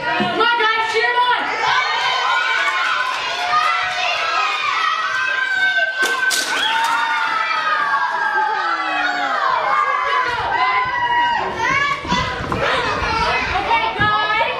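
A crowd of children shouts and cheers someone on in a loud, continuous, overlapping roar with excited high-pitched voices, rising in bursts throughout.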